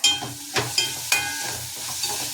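Tomatoes sauté in a pan with a soft continuous sizzle, broken by a few sharp scraping stirs at irregular intervals, close by.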